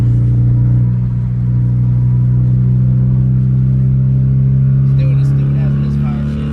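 A Ford Mustang's engine rumbles loudly at a Friday night car meet, a deep steady idle with slight revs, close by, while people talk over it.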